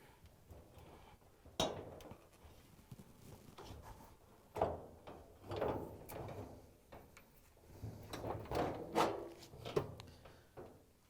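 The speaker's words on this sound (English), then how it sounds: "the bulkhead is just held on by these tabs at the top. We're just going to carefully lift it up and pull it off." Plastic bulkhead panel of a Maytag dryer being lifted off its top tabs and pulled away, a few close scraping clunks and rattles spaced out over a quiet background.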